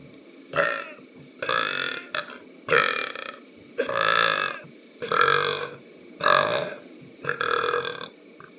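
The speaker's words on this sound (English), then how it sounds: "let's see if I can get a couple more burps here for a farewell" A man lets out a run of seven loud, drawn-out burps one after another, each a deep rasping belch with short pauses between, close to the mic.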